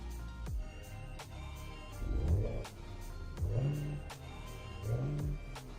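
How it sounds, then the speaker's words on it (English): A truck engine in American Truck Simulator rumbles at idle and roars through three rising revs spaced about a second and a half apart, fairly quiet overall with faint clicks on top. "Listen to that engine roar."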